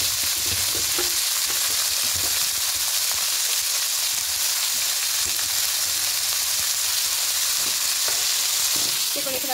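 Salted vegetables for a restaurant-style pasta fry in a pan, a loud, dense, unbroken sizzle with occasional soft stirring knocks underneath, close up and steady throughout.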